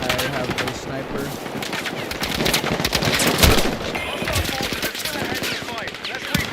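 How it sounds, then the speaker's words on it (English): Rapid, dense gunfire from a Battlefield 6 match, with machine-gun bursts and scattered shots rattling continuously and a louder blast partway through. Voices talk faintly underneath. "I'm getting shot at."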